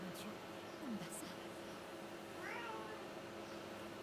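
A cat meows a few times, short rising and falling cries sounding faintly over a steady background hiss, with some voice-like sounds in between.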